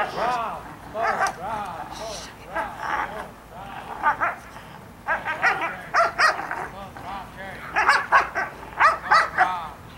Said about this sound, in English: This is Arizona's Wild Cherry, 2-year-old Belgian Malinois female